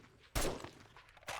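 Gunshots in a zombie video game, two sharp loud blasts roughly a second apart, each with a brief ringing tail over a quiet background.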